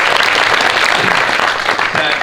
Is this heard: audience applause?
yes